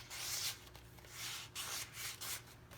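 Wooden dowel rod rubbed against the center of a paper flower petal, soft close scuffing strokes in four or five separate passes, quiet and with no talking.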